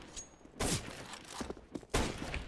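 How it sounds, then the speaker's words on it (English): Gunfire in a CS:GO match, a player firing on a teammate: sharp bursts of shots with a loud volley near the start, scattered single shots in the middle and another strong burst toward the end. "Now he's shooting at his teammate"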